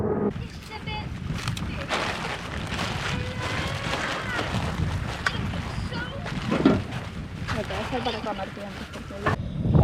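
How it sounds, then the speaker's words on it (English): Wind blowing across an island beach on a camping and fishing trip, a steady buffeting roar with microphone wind noise running throughout, close and fairly loud, with voices talking faintly underneath. "it's kind of windy today"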